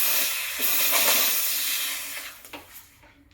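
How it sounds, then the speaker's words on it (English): A Rancilio Silvia V5E espresso machine's steam wand purging: a loud, steady rush of hissing steam for about three seconds, with small sputters near the end before it cuts off. "I'm going to purge my wand to remove any milk from the insides."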